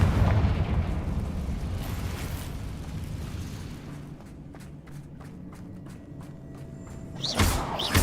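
Blasting spell Confringo going off in the Hogwarts Legacy video game: a loud booming burst at the start that fades into a rumbling tail, with sharp crackling pops and a second thump near the end.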